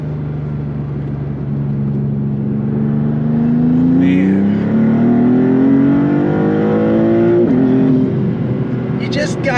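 A 2024 Maserati MC20 supercar's engine and exhaust rise in pitch as it accelerates through the gears, a smooth droning note with a brief shift near the end, heard from inside while a person talks over it.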